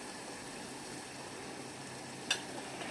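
Steamed peas dropped into a frying matar paneer masala, the pan giving a steady soft sizzle and bubbling, with a brief sharp clink of a utensil near the end.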